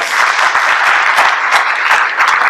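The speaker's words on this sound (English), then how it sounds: "So can you give them a round of applause?" Audience at a school board meeting applauds award-winning students, a dense burst of steady clapping from many hands, close and unbroken.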